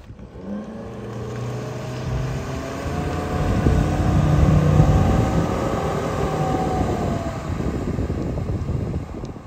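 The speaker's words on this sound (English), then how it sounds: "This is our 2017 Beneteau Antares 7, powered by a Suzuki 150 horsepower outboard engine." Suzuki 150 horsepower outboard engine on a 2017 Beneteau Antares 7 motorboat, a loud continuous low engine drone with rushing water and wind that swells toward the middle and holds steady.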